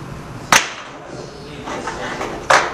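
The clamp of a 3D sublimation heat press machine holding mugs is opened, giving two sharp mechanical clacks about two seconds apart over quiet room noise.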